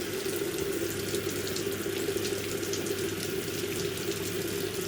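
A Hoover 800RL washing machine fills with water for its deep rinse, a steady, close rushing flow with a faint hum that runs unbroken throughout.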